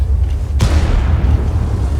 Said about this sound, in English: Some very big explosions.